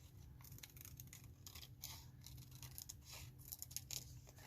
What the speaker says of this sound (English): And I'm just going to cut it out. I'm going to fussy cut it.